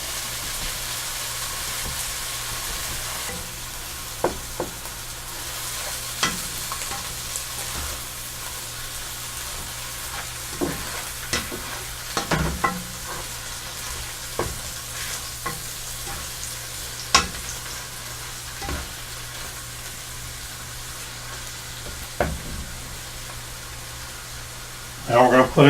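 Butter sizzles steadily in a pan as the base for a brown mushroom gravy, a continuous soft crackle broken by occasional sharper pops and clicks of a utensil against the pan.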